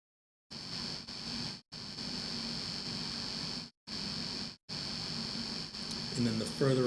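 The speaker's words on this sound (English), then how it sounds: "what you're hearing is the AC versus the fan" A Trycoo HO4 mini PC fan runs alongside an air conditioner, giving a steady, even hiss topped by a thin high whine. Several brief drop-outs break the sound, and something faint stirs near the end.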